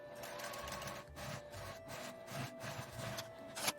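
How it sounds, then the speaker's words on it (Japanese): A sewing machine runs steadily, stitching along the centre seam of a face mask with a gauze inner layer and mesh, a continuous close mechanical whir with brief slowdowns and no talk. "ちょうど真ん中の縫い目の上を縫うような感じで縫っていきます"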